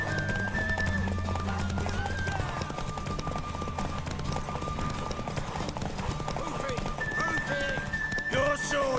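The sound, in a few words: horse galloping and neighing in The Witcher 3: Wild Hunt video game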